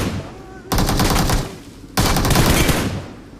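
Automatic gunfire from PUBG Mobile erupts in two loud, dense bursts separated by a short gap, rattling close and harsh.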